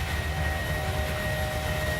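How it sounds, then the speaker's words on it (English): Boeing 737 jet engines throttling back after takeoff in Microsoft Flight Simulator 2020, a steady low roar with a faint whine, continuous and even, no talking. "Engines are throttling back at about where they should."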